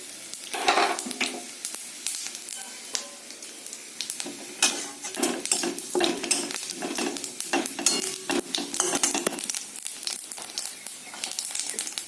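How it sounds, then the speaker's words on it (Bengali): Whole cumin seeds tempering in hot mustard oil in a pan where potatoes were just fried, a dense continuous crackle and sizzle with busy stirring scrapes throughout, close and fairly loud, no voices. "আমি আর একটু সর্ষের তেল দেবো, আর এটা আমি গোটা জিরে ফোড়ন দেবো।"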